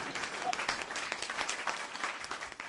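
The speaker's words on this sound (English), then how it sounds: "I should be doing something like clapping." Applause from a small group at a beer event, brief and fairly faint scattered clapping.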